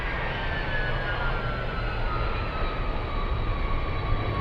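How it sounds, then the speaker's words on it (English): A McDonnell Douglas DC-10 jet taxis past at close range before takeoff, giving a steady, loud engine roar and whine that holds without a break throughout. "DC-10 taking off very soon, and it's going to be taxiing in front of us on Sierra, directly in front of us, very close to us"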